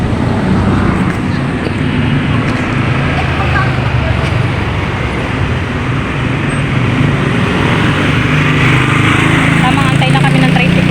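A motorized tricycle drones along a roadside, its engine buzzing steadily and growing slightly louder amid constant traffic noise, with people talking nearby.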